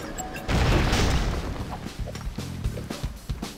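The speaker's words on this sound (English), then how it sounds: "That explosion was awesome." Loud booming blast from a LEGO City Undercover video game during a mine stage, a heavy low rumble that decays, followed by several smaller crashing hits and impacts.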